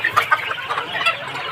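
Desi chickens clucking on a poultry farm, a few close, short clucks and calls over a quiet background.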